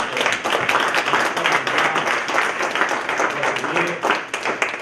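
An audience at a panel discussion on economic survival claps for the panelists with a dense, steady patter of many hands that lasts about five seconds, loud and close throughout.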